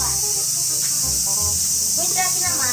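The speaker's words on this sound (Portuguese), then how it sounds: "tem umas par de cigarra cantando," Cicadas sing in a patch of woods in Japan, a loud steady high-pitched buzzing drone that fills the whole scene while people talk faintly underneath.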